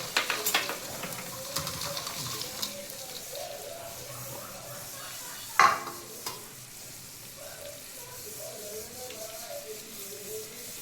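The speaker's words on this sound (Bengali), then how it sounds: "যে মাছগুলো আমি এখানে ভেজে রেখেছি এই সব মাছগুলো এখানে ঢেলে দেবো" Pieces of fried fish tipped into hot oil for a fish pickle, then stirred, with a crackling sizzle and scraping strokes, one sharp clatter midway, close and moderately loud.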